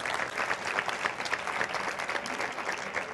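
Steady applause from an audience at the close of a conference talk, many hands clapping at a moderate level without pause.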